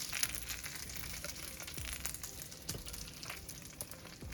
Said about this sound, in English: I am thinly slicing an onion, which gets sauteed first